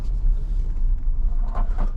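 A 2022 Ford Bronco Badlands with a four-cylinder engine and seven-speed manual runs with a low, steady rumble, heard from close by without any talk.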